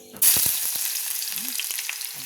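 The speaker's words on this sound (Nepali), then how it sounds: "तेल गरम भइसकेपछि चाहिँ फर्स्ट राउन्डमा यहाँ अदुवा र लसुन छ" Ginger and garlic hit hot oil with a sudden loud sizzle that keeps crackling steadily, with a few faint utensil taps beneath it.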